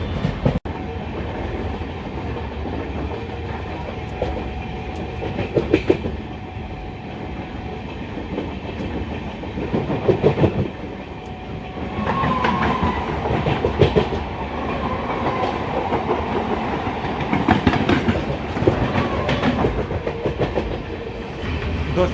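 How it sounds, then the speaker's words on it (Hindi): The 18426 Durg–Puri Intercity train runs along the rails with a steady, loud rumble and rhythmic clickety-clack of wheels over joints, heard up close from on board throughout. "अपनी जो ट्रेन है 18426 दुर्ग पूरी इंटरसिटी"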